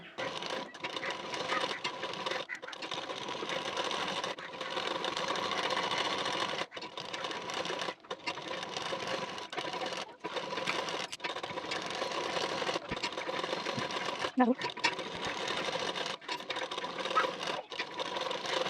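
A sewing machine stitches neck binding onto a blouse, running in long steady bursts of rapid mechanical whirring with brief pauses between runs and faint speech underneath.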